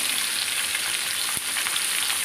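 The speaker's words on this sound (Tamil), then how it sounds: "நம்மளோட சங்கரா மீன் வறுவல் ரெடி ஆகிடுச்சு" Whole Sankara fish frying in hot oil, a steady dense crackling sizzle throughout with one sharper pop midway, close and alone.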